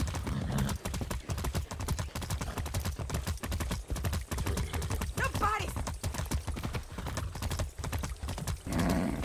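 Rapid hoof clip-clops of a horse in Far Cry 6 beat in a steady galloping rhythm, close and loud, with a horse's whinny partway through.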